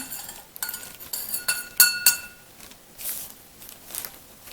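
Several light clinks of a metal spoon knocking against a glass in a quick cluster while making a plaster hand cast, then softer scattered taps and rustling close by.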